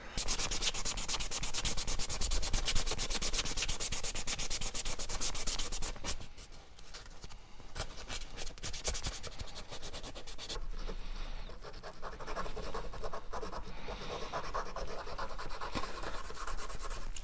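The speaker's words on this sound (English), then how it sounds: "I've got these like kind of nail file things, but they're just sandpaper on a stick" Steady hand sanding of a wooden heart with sandpaper on a stick, a continuous close rasping rub that dips briefly in intensity partway through before resuming, with no talking.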